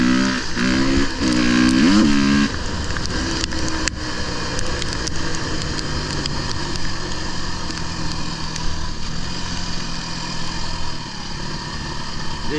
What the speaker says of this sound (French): toutes ces voitures comme ça qui accélèrent et qui freinent